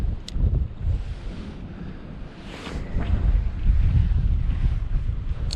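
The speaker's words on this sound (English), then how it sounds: "There's that dang wind picking up again." Gusty wind buffets the microphone at an outdoor fishing spot, a steady broadband roar that swells louder in the second half, with no talk.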